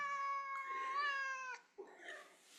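Pet cats meowing up close, a long drawn-out harmonic meow lasting over a second, then a short rough cry and some rustling as they squirm.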